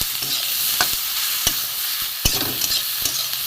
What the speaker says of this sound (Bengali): এবার আমি ভালো করে এটাকে ভাজবো পেঁয়াজের সাথে কাঁচা লঙ্কা দিয়েছি